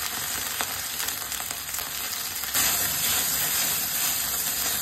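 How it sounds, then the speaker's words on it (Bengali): Taro pieces fry in hot oil with salt and turmeric, a close, loud, continuous sizzle and hiss that rises sharply midway, with no talking. "এই কচুগুলোকে নুন হলুদ দিয়ে ভেজে নেব।"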